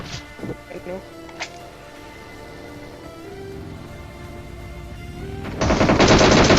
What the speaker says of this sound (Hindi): अब मेरे को फायर आता है सामने की तरफ से।